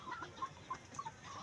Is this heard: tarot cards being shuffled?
no